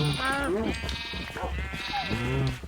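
Two clear, wavering sheep bleats in Minecraft modded with Better Than Wolves, one near the start and one near the end, with someone speaking in between.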